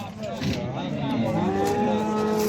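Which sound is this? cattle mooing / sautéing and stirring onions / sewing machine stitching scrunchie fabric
cattle mooing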